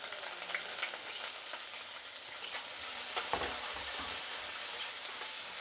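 Urad and chana dal frying in hot oil with chopped onion, a steady close sizzle that swells slightly louder partway through, with a few faint scraping stirs. No voices.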